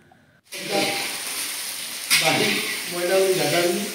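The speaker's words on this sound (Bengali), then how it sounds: "রান্না হচ্ছে, এরপরে আমরা খাওয়া দাওয়া করবো।" Food fries in a pan, bursting into a loud, steady sizzle after a brief near-silence and swelling again partway through, with a voice speaking briefly over the hiss toward the end.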